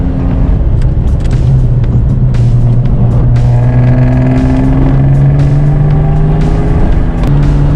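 Car on cheap coilovers cruising along a road, with a loud, steady engine drone and shifting tonal hum throughout, faint knocks and bumps from the road over it, with no speech.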